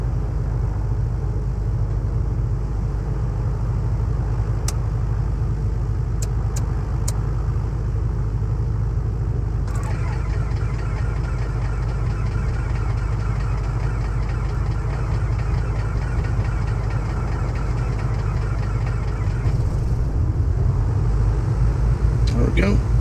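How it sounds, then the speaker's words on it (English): Twin aircraft engines in MSFS 2024 cough to life one after the other and settle into a steady low idling drone, with a voice talking over the rumble. "Good engine start on the left and the right."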